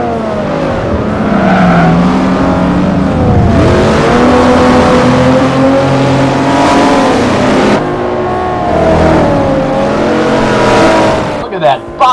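Engines of 1960s muscle cars and supercars at Le Mans in Forza roar and rev continuously, accelerating and whining through gear changes, loud and close throughout, with a brief tire squeal near the end.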